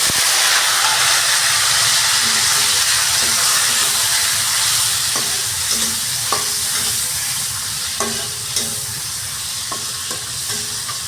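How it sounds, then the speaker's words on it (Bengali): Chopped tomatoes frying in a pan: a steady loud sizzle and hiss, with occasional soft clicks of stirring near the end. "এবার আমি টমেটো কেটে রেখেছিলাম ছোট ছোট করে, এটি ভালো করে ভাজব।"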